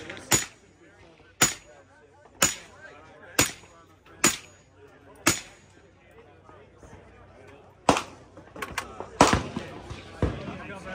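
A Honey Badger rifle chambered in 8.6 Blackout fires at an industry shooting range, with about ten sharp, loud, evenly spaced shots, the last few coming faster and closer together.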